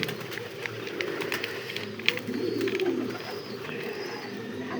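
Pigeons kept on a fancy and racing pigeon farm coo in low, throaty rolls beneath scattered clicks, taps and rustling, with one sharp knock near the middle.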